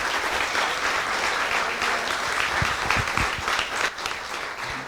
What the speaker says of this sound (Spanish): para que ustedes reciban el aplauso que merecen,